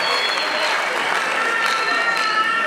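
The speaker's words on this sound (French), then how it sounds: "On peut acclamer pour tous ceux qui sont dans cette salle." Audience applause fills a conference hall at the Palais des Congrès in Brazzaville, a steady, dense wash of clapping from a large crowd that sustains evenly throughout.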